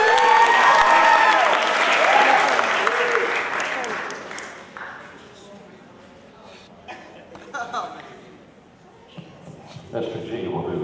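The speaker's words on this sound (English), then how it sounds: "I hope you give him a round of applause" An audience claps and cheers for a teacher being introduced, with loud applause at first that fades after a few seconds into scattered chuckles and murmuring.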